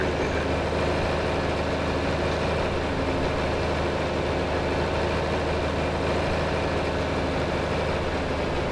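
A heavy vintage tractor engine idles steadily and loudly, a continuous low rumble with no voices.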